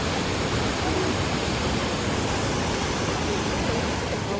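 Franklin Falls waterfall on a hiking trail sends up a steady, loud broadband rush of falling water that stays constant and close throughout, with no clear voices over it.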